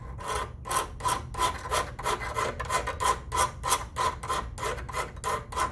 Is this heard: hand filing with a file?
yes